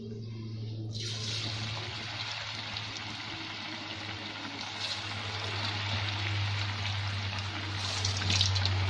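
Chakli dropped one by one into hot oil set up a broad, continuous hiss of frying that swells suddenly near the start and holds steady and close, over a low hum in the background.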